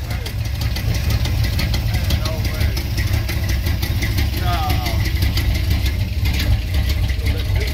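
A cammed OBS GMC Sierra pickup idling nearby with a loud, steady, lopey rumble that keeps going throughout, while people talk over it now and then.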